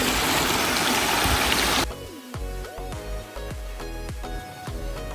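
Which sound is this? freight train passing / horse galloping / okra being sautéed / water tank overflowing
water tank overflowing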